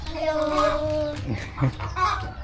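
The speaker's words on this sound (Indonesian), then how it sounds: "para ayam yang ada di sudut-sudut desa telah berkokok dengan sahut-sahutan. Sementara ayam betina berkotek-kotek, tak henti-hentinya" Roosters crow and hens cluck in a village overlooking Lake Kerinci: a drawn-out crow and a few clucks, fairly faint under a nearby voice.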